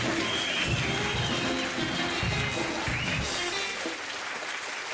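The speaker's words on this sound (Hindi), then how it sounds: "give them all a huge round of applause, a standing ovation to all of them" Sustained audience applause and cheering as a standing ovation on a Hindi stand-up comedy show, a dense wash of clapping that carries steadily for the full span and eases slightly near the end.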